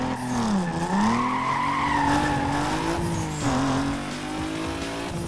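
A sports car engine in Need for Speed Most Wanted (2005) revs loudly and climbs in pitch, with tires squealing as the car skids, then settling into a steady drone.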